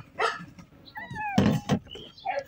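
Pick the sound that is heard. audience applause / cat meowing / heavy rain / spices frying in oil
cat meowing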